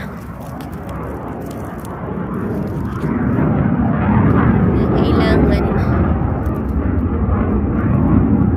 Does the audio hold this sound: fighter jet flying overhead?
yes